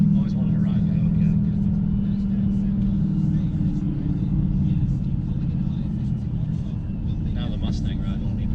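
A Dodge Hellcat's engine rumbles steadily from inside the car during a ride, a low continuous drone that holds through the whole stretch with some voices talking faintly over it.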